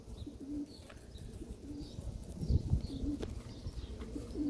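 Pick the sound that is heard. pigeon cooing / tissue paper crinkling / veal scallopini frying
pigeon cooing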